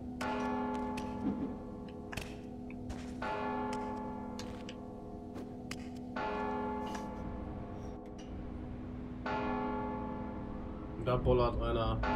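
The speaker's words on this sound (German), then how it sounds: "wenn ich Geräusche mache, dann kommt sowas wie jetzt von dieser Glocke, so eine Art Schallwelle" In the stealth video game Mark of the Ninja, a large bell rings with several resonant, sustained strikes that decay slowly, one after another, with game sound effects in the background.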